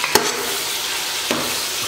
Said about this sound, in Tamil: தக்காளி போடுறேன்